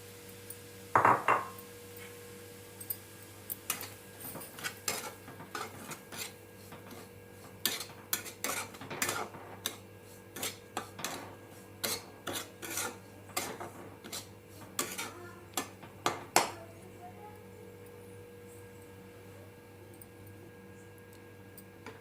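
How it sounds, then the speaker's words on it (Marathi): Semolina roasts in ghee in a pan, heard as faint, quiet scraping and clinking of a spoon against the pan in irregular bursts, with a soft steady hum beneath. "ह्याच तुपामध्ये मी रवा भाजून घेते"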